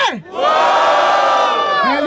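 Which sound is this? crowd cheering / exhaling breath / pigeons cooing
crowd cheering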